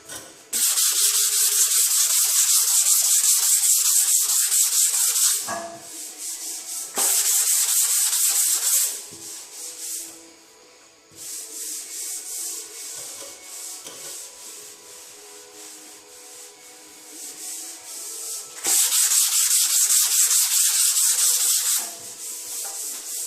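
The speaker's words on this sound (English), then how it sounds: "Just glide it over the filler and let it cut it down." Body filler on a 2010 Honda Civic sedan fender is block-sanded by hand, long loud rasping strokes in several bursts separated by quieter pauses, with no talk.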